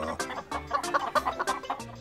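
Cartoon chickens on a farm in an animated children's cooking show give a quick series of bright clucks, with cheerful voiced tones mixed in.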